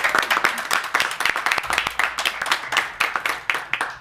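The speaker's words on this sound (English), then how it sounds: "Let's give them a round of applause too." Audience applause at a mayoral education announcement: scattered, uneven claps from a modest crowd, individual hand claps clearly separated, continuing steadily for the whole stretch without speech.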